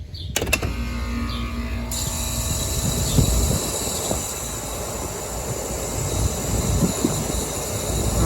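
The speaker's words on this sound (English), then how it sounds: "That compressor sounds like ass" A central air conditioning compressor, its condenser fan capacitor failing, runs as a loud, steady mechanical hum and rattle with scattered clanks and a brief clatter near the start.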